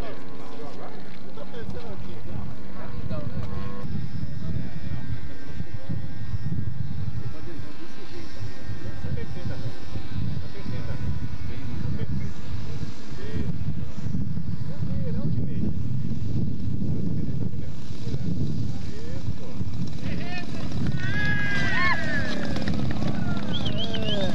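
A one-third scale Sopwith Pup model airplane engine whines overhead on its first flight, its pitch rising and falling, while people talk close by amid wind noise.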